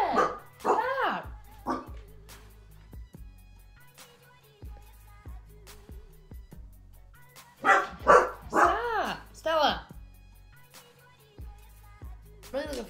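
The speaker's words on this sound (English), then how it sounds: "What are you barking at?" A dog barks and yips in short bursts up close, with a person talking in between the barks.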